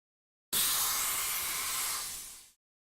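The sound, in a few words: steam hiss of steam engine servant character in a video game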